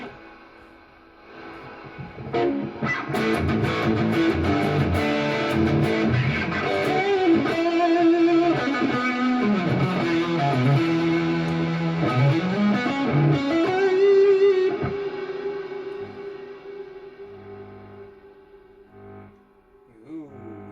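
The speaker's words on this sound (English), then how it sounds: "I know I've got a lot of reverb on. I like my reverb. We'll go high gain." Epiphone Standard gold top electric guitar played through a high-gain distorted tone with heavy reverb, loud chords and melodic notes ringing for about fifteen seconds before a long sustained note fades into the reverb tail.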